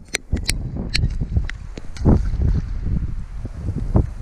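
Wind gusting across bare rocks and puddles on an exposed Norwegian sea coast, a steady low roar with rising gusts, close and fairly loud, broken by brief sharper knocks and rustles.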